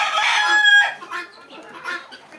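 Tiger breed chickens on a farm in Bakshiganj, Jamalpur: a close, loud rooster crow opens, followed by softer clucks and calls from the flock.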